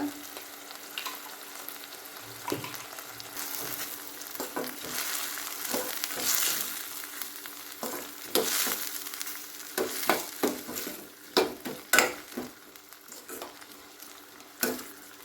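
Mushroom gravy masala with oil and turmeric fries in a pan, giving a steady close sizzle, while a spoon stirs and scrapes against the metal in irregular clatters that grow busier toward the end.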